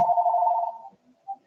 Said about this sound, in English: That's a phone right now.